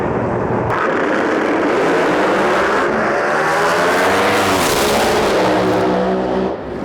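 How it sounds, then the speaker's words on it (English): A late-1960s Pontiac Firebird drag car with a screw-type supercharger makes a qualifying pass at a street-car drag racing event, its engine roaring loud and continuous with a rising, sweeping pitch as it accelerates down the strip. "It's a late 60s Firebird screw blower car."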